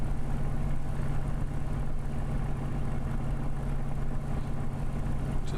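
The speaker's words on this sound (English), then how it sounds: "Just listening to the engine. Sounds absolutely fine." A steady, droning Silver Spitfire piston engine from Microsoft Flight Simulator drones at an unchanging pitch, heard from the cockpit, with no voices over it.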